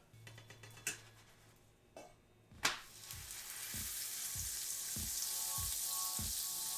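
A grilled cheese sandwich fries in butter in a skillet: a few sharp knocks as the pan is handled, then a steady, soft sizzle that grows and holds, broken by regular low thumps as the skillet is shifted about.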